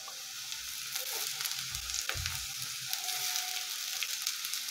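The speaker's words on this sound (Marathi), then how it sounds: "कांदाही छान परतून घ्यायचा आहे." Onion and carrots sautéing in a pan for vegetable chow mein, a steady soft sizzle with a few low stirring scrapes, close and moderately quiet with no talking.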